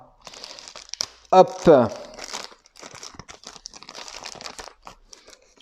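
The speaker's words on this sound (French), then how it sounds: "Oh la vache, ils ont mis ces scotch. Bon, j'ai mon petit cutter." A taped cardboard parcel is cut open with a small utility knife, giving loud crinkling and tearing of tape and card in two bursts, then lighter rustling, while someone talks briefly.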